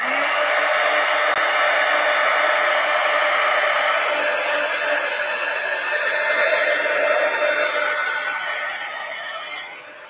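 A hair dryer blows steadily and loudly at close range over a mixed media pumpkin collage, a continuous rushing whoosh that tapers slightly at the end, with no voices.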